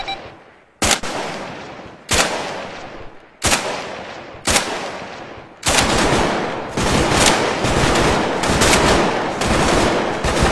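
Video game gunfire: sharp single shots at irregular intervals early on, then a sustained loud burst of rapid automatic fire with no talk.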